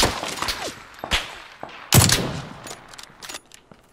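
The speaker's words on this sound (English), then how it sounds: "there's multiple people shooting at me now" Several bursts of gunfire in the battle royale game PUBG, sharp cracks spread across a few seconds with one loud close volley in the middle and fainter distant shots around it, no talking.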